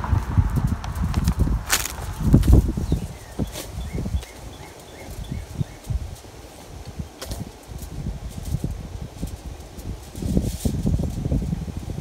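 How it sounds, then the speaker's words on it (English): Gusty wind blows outdoors around a foil-lined solar oven held down by bricks, rushing in low, uneven surges with a few louder buffets against the microphone and no talk. "It's kind of windy out here today."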